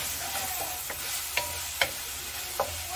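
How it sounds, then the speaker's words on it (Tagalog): Pork sautéing with garlic and onion in a pan, a steady soft sizzle broken by a few sharp spatula scrapes and clinks against the pan at irregular intervals, close and fairly quiet, with no talking. "Ginisa ko lang sa bawang and sibuyas."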